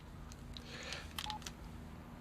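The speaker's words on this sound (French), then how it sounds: "je vais appeler Nathan, je vais me faire passer pour quelqu'un d'autre" A telephone being dialed to place a call gives a quick series of faint, short keypad tones over a low background hum, with a few soft clicks between them.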